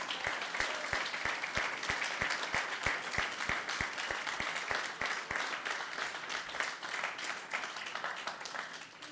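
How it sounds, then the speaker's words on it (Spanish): A congregation applauds at the launch service of a new church, with steady, loud applause and a rhythmic clap beat running through most of the clip before loosening near the end. "Un aplauso, hermano."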